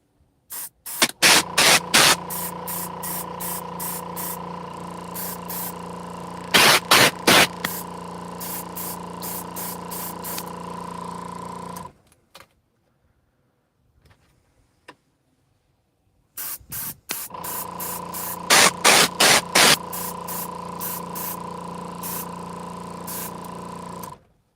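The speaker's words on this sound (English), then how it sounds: "I probably shouldn't have put so much paint in the little airbrush pot." An airbrush sprays paint onto a Gundam Braw Bro model kit in long steady hissing bursts, with several short pulses at the start of each burst, a quiet pause in the middle, then more spraying; close and loud with no talking.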